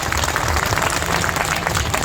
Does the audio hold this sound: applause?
yes